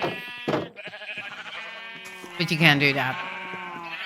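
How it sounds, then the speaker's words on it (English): Sheep in a farming video game bleat loudly and near, with a long wavering cry late on. A person talks over the animal sounds. "You cannot have a sheep in a boat."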